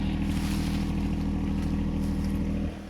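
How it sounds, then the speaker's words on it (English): A tractor drives fence posts for a DIY dog kennel build, its engine holding a steady, low droning hum close by before dropping off abruptly at the end. "driving fence posts with the tractor"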